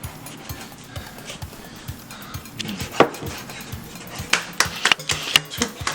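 Raw chicken being sliced into strips with a knife, giving a run of soft repeated cuts and taps on a board, with sharper knocks toward the end.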